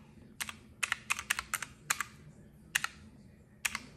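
Computer keyboard typing: a few close, crisp key clicks, alone in a quiet room with irregular pauses between them.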